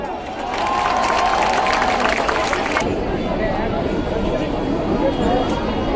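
A crowd at an Independence Day celebration breaks into loud, sustained applause to welcome a guest, with cheering and babble mixed in; the dense clapping eases a little partway through but keeps going.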